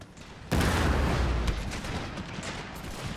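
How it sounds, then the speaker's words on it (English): Dense, continuous battle noise in the video game Pike and Shot: booming explosions and rapid gunfire rolling together during a siege, loud and sustained after a sudden onset. "There's a lot of explosions and there's a lot of gunfire."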